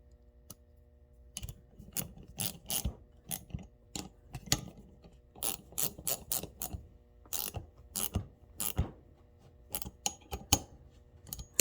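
A clamp on a brake line flaring tool is tightened onto a tube, giving irregular close metallic clicks and ratcheting ticks in quick clusters. Small knocks and handling noise mix in.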